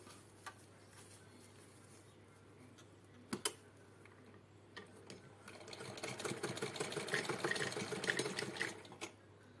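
A sewing machine stitches a fabric pouch, a quiet rapid rattling that builds in the second half, after a few scattered clicks and handling knocks at the start.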